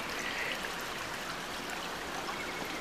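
A small outdoor stream of water flowing steadily, a soft continuous trickling rush at low volume with no voices over it.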